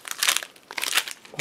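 Crisp plastic packets from a Russian IRP-1 military field ration crinkle in two close bursts as they are handled, loud and brief, with no talk.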